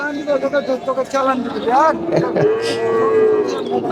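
Cattle moo loudly and repeatedly at a rural cattle market in Bangladesh, long drawn-out lowing calls close by, with people chattering in the background.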